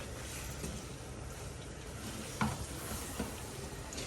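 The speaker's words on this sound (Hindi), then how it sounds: "इसको हम अच्छे से मिक्स कर लेंगे कीमा इसके अंदर।" Minced meat keema with chopped bell peppers being stirred in a pan, giving a low, steady sizzle with a couple of soft spoon scrapes, faint and close.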